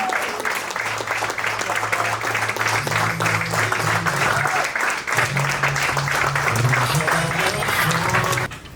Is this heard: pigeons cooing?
no